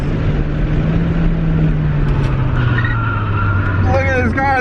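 A race car's tires squeal and skid while cornering hard, a sustained screech over the loud engine drone, with people talking over it.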